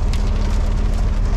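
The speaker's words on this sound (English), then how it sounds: "So much rain happened within the past 10 minutes and the parking lot's just running like a river." Heavy rain pours down during a thunderstorm at a quarry parking lot, a dense, loud, continuous hiss of drops with no voices.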